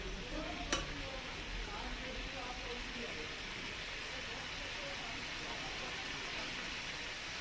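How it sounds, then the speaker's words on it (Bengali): Sour aam shol fish curry with raw mango and green chillies boils in a pan, giving a soft, even bubbling hiss throughout, broken once early by a single metallic clink. "ঝোলটাকে ফুটিয়ে নিতে হবে"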